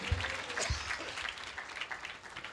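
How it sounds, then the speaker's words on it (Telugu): A church congregation at a Christmas service claps together in a dense burst of applause, steady and fairly close, gradually thinning out. "చప్పట్లు కొట్టండి ఒకసారి"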